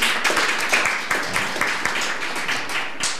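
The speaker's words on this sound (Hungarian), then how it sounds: "szeretnék kérni egy tapsot mindenkitől" A modest group at a gallery opening at Pannon University claps, with individual hand claps standing out as separate, fairly close strikes that gradually thin out.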